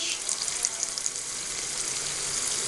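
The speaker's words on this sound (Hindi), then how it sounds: "वन पिंच सरसों डाल के थोड़ा सा फ्राई कीजिए उसमें" Cumin and mustard seeds frying in hot oil, giving a dense, steady, close crackling sizzle without pause.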